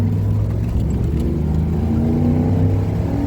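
A modified Ford F-150 pickup accelerates hard. Its engine drones loud and close, and the pitch climbs steadily as it revs up.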